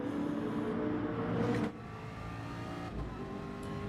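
Gran Turismo Gr.3 race cars in a video game at Fuji Speedway, a steady loud engine drone that drops to a lower, softer pitch partway through, as after an upshift or a car easing off down the long straight.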